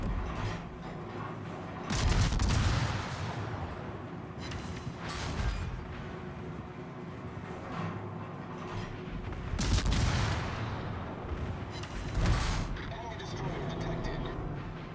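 Naval guns boom in a warship video game while the ship burns with torpedoes astern, heavy salvos landing around 2, 10 and 12 seconds over a steady rumble of continuous battle, with someone talking throughout.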